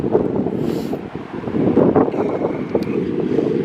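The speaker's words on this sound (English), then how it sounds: "It's a headwind, it's sort of a blustery one," Steady, gusty headwind on the coast near Pwllheli buffeting the microphone, a continuous low roar that swells and eases without letup.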